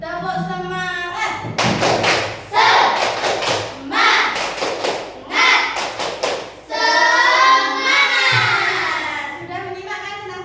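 Classroom students perform a rhythmic spirit clap, chanting in unison between sharp bursts of quick hand claps and thumps in repeated groups, with voices and claps alternating loudly and close by.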